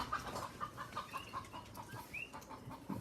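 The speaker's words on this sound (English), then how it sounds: "Get chickens outside everybody's house." Chickens clucking outside a house in Hawaii, a steady run of short repeated clucks with a few higher calls, moderately close against light outdoor background, no talking.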